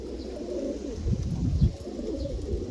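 Könenberg pigeons coo up close, several soft, low, throaty rolling coos overlapping over a steady background murmur.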